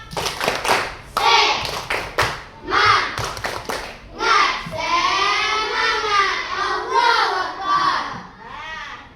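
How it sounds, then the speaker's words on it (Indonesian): Schoolchildren in an Indonesian classroom perform a rhythmic spirit clap, with bursts of sharp claps mixed with their loud chanting voices close by. "Tepuk semangat."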